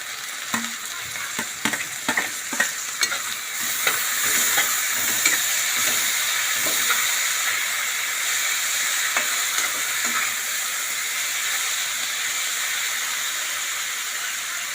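Tomatoes and green chillies hit hot oil with turmeric and spices for market-style poha. A loud, steady sizzle fills the pan up close, broken early on by clinks and scrapes from stirring, with no one speaking.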